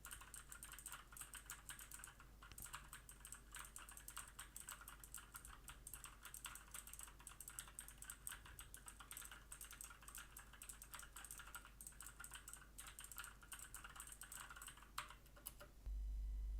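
Keyboard with Outemu Blue clicky switches typed on about 35 centimeters from a Behringer C1U microphone, a fast, steady stream of sharp key clicks at moderate level that stops abruptly near the end.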